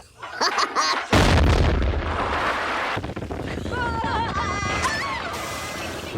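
A cartoon bomb explodes after being flushed down a school girls' toilet, a sudden loud blast followed by a long rumbling roar, with cartoon voices and squeaky vocal sounds over the fading noise.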